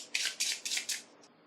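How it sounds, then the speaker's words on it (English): A deck of game cards is shuffled in four quick, crisp riffling bursts, close and clear, with a faint final flick. "Let's quickly shuffle these up."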